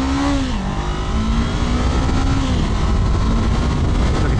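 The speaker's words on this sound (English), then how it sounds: "One thing I would say about this 471cc motor is just how smooth it runs." A 2024 Honda CBR500R with a 471cc engine runs smoothly, a loud, steady, close motor drone with subtle rises and dips in pitch as the revs shift, with no talking over it.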